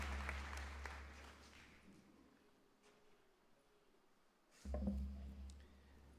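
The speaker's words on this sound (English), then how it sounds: "One more round of applause." Audience applause at a community college awards ceremony, honoring a faculty emeritus award winner. The clapping starts moderately, fades quickly to faint scattered claps, and sits over a low room hum.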